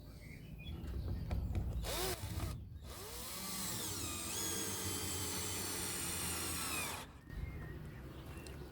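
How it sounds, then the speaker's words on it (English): Power drill driving Tek screws into old bed timber to fix a lift-up lid rail to a fence, a steady close whine running for several seconds with brief pauses and rising-pitch starts. "So let's screw them to the fence."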